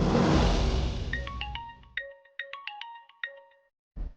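A phone ringtone chimes in a quick run of bright electronic notes on a call to a mother that keeps failing to connect, following a loud burst of noise, then cuts off before a short thud at the end.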